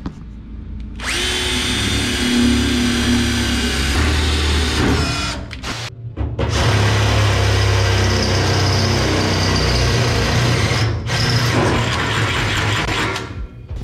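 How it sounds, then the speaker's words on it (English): A power drill with a smaller bit bores a pilot hole in metal on a bagged Oldsmobile Rocket build, whining loud and close in two long sustained runs separated by a short pause. "We're gonna give ourselves a pilot hole with a smaller bit."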